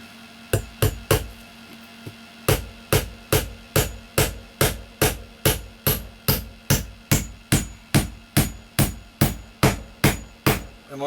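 A hammer drives 2.5 to 3 inch nails into an OSB bedroom wall in a tiny house. Two early blows are followed by a long run of about twenty sharp, evenly spaced strikes, loud and close, with no talking.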